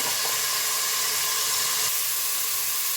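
Onions frying in hot oil with turmeric for a mutton keema and field-bean sambar, a loud, steady close-up hiss and sizzle running unbroken throughout.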